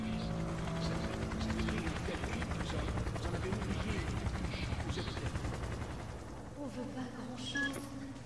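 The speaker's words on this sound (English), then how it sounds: "And security helicopters." Security helicopters in the video game Remember Me, a dense rapid rotor chop mixed with gunfire-like bursts filling the scene, fading somewhat near the end while speech is faintly present.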